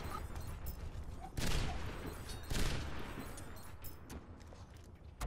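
Gunfire in the Overwatch video game sounds as a quick stream of shots with a couple of louder bursts, moderately close, with faint game noise underneath.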